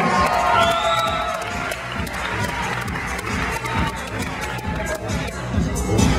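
An audience at a Dutch national lead climbing championship semi-final applauds and cheers, a dense crowd roar with shouts and whoops that fills the space continuously and swells toward the end, with an announcer's voice faintly under it.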